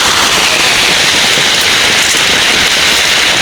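Heavy rain pours down in a loud, dense, continuous hiss with crackling patter of drops striking surfaces close by.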